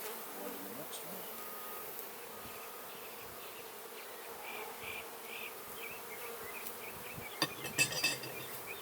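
Honey bees buzz at an open beehive in a faint, steady drone, with a few soft clinks and a brief louder rustle near the end.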